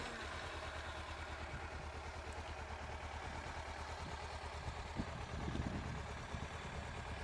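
A Kawasaki Ninja 300 idles just after startup, a faint, steady low mid-range hum with light mechanical clatter, nearby and alone with no talk.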